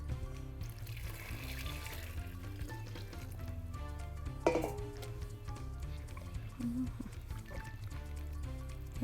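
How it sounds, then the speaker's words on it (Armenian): Chicken broth pours into a pot of creamy mushroom soup thickened with milk, a steady liquid splash and faint sizzle running under continuous background music, with a brief louder splash midway. "Եվ հիմա հավի ջուրը։"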